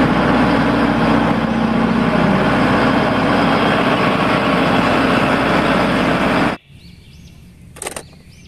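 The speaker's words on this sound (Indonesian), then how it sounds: "Wih, lihat, ada mobil beko." An excavator engine runs loud and steady at close range, then cuts off abruptly near the end, leaving only faint, quiet sounds.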